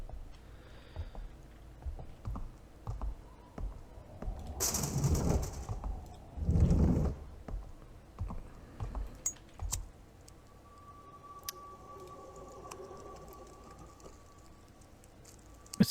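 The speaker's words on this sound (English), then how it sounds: "This is where the typewriter is." Typewriter in the survival horror game White Day: Remake, tapping in sparse, quiet clicks with a louder burst of clatter midway, set against a faint ambient hum and no talk.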